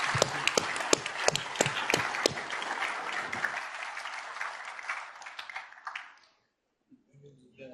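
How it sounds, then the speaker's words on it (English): A panel session audience gives the six panelists a round of applause, loud and dense with sharp individual claps near the front, thinning after about six seconds and ending in near silence with a faint stir. "Shall we give them a round of applause?"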